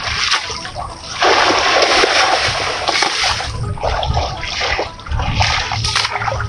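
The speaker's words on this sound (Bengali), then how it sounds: "ভাই একটু কীভাবে পাটটা ধয় একটু দেখান" Jute fibres being washed by hand in water by a farmer in Faridpur, with continuous loud splashing and sloshing and repeated surges as the bundle is beaten and swished close by.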